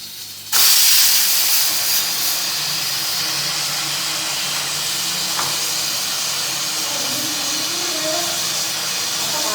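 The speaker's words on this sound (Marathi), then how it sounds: "कुकर पण झालाय शिट्टी" A pressure cooker on a home stove vents steam as a loud, steady hiss that bursts in after a brief quieter moment and keeps rushing without pause, with faint household sounds underneath.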